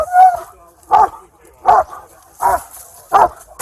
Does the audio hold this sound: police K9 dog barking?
yes